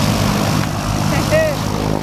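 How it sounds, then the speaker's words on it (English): Loud, steady propeller engine drone fills the cabin of a skydiving plane, a constant low roar with no pauses, with people talking over it nearby. "It's a little hard to hear on the plane."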